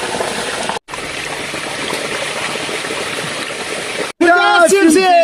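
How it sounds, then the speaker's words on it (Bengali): Milk poured into a watermelon sharbat, a steady liquid stream splashing for several seconds with two brief breaks, followed by a voice talking at the end. "দুধটা এবার ঢেলে দেবো"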